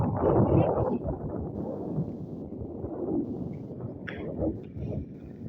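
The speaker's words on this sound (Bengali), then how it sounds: "আর হাওয়াটাও বইছে সেরকম" Wind blows across an open spot beside a long village canal, a continuous low rumbling buffet against the microphone with gusts rising and falling throughout.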